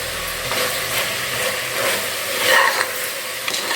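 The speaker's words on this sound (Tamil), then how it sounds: "இந்த மசாலையை இதில் கொஞ்சம் நேரம் வதக்கணும்" Steady frying sizzle of ground masala in a pan for mutton bone soup, a continuous crackling hiss with occasional faint clicks, close and moderately loud.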